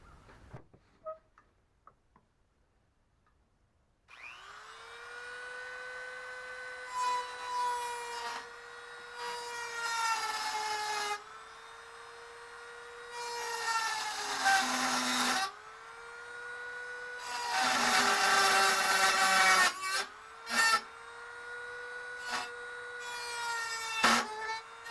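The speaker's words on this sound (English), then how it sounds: "we'll see what we can do with the Dremel tool here" A Dremel rotary tool grinds a carburetor part on a Troy-Bilt snow blower, whining at a high, steady pitch in repeated bursts of several seconds each, getting harsher and louder as it bites into the metal. The tool starts after a few soft handling clicks.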